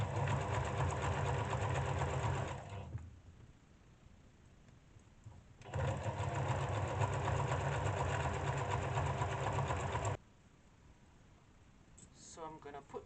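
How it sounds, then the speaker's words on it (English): Home sewing machine stitching a zigzag while making wide-leg trousers from a scarf, two loud steady mechanical whirring runs of a few seconds each separated by quieter gaps, with speech near the end. "And then you set your machine to the zigzag."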